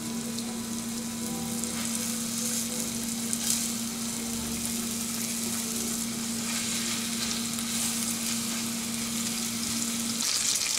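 Steak cutlets sizzle loudly and steadily in hot vegetable oil in a pan, a dense continuous crackle with a faint tonal hum running underneath, and no voices.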